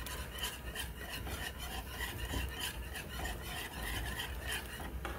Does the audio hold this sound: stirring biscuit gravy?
yes